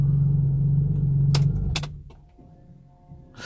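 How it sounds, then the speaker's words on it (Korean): A supercar engine is shut off with the gearbox in neutral, its loud steady idle rumble cutting out after about two seconds, followed by a few clicks and a quiet settling hum. "N단에다가 놓고 시동을 꺼보도록 하겠습니다"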